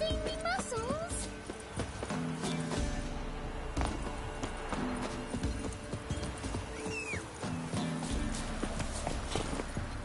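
Roach the horse's hooves clip-clop steadily in The Witcher 3, a rhythmic trot under a busy game soundscape with a brief whinny and music-like tones.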